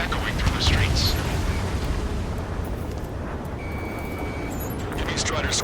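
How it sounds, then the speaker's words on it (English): Gunfire and roaring jets in the Ace Combat 7 video game, a city under martial law: dense, loud broadband rumble with sharp bursts throughout, a steady whine appearing midway, and voice-like sounds mixed in. "gunfire and the roar of jets echoing through the streets"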